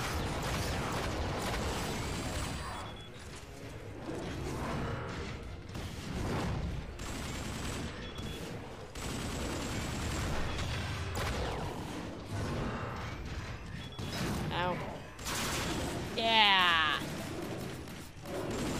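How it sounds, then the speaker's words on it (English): Gunfire and explosions in the Transformers: Dark of the Moon video game, a steady dense wash of shooting and impacts throughout, with a brief sharp crash and whoosh near the end. "Keep shooting! We're almost there!"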